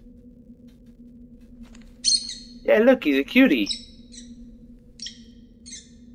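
A robin calls nearby with scattered high chirps around a louder, warbling burst in the middle, while a person talks softly during the calls.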